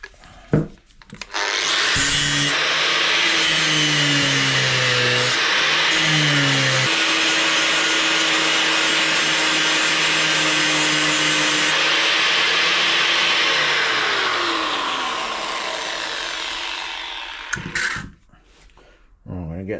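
Power tool loudly cutting off a small rib on a metal foot during shed fabrication, a steady harsh grinding whine that shifts pitch as it bites, running nearly continuously before spinning down, with no talk.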